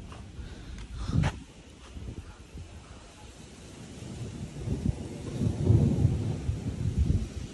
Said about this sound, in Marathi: पाऊस जोरातच पडतोय वाटाले आज.